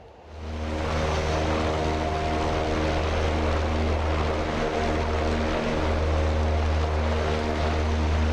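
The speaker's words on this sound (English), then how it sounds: "So the first one is an Antonov 30 cargo plane." An Antonov 30 cargo plane's twin propeller engines drone steadily in the DCS flight game, a loud, even hum with a strong low throb that holds the whole time.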